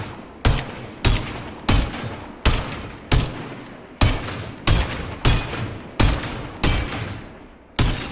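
Rapid gunshots at a shooting range in the video game Spectre Divide: about a dozen loud, sharp reports in a steady rhythm roughly half a second apart, each with a short decaying tail, with no talking.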